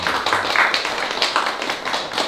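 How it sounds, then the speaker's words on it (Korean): An audience claps steadily at the close of a book-concert lecture about the commons, a dense, even patter of many hands with slight swells, filling the room without pause. "한데이디님께 다시 한번 박수를"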